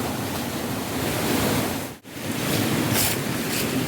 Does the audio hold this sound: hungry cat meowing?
no